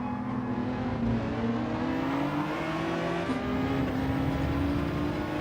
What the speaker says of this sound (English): Did that car just overtake under a yellow?